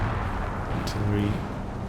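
Artillery shells landing in a Company of Heroes 2 battle make dense low rumbling booms, with a brief sharp crack near the middle, all blended into a continuous heavy battlefield roar.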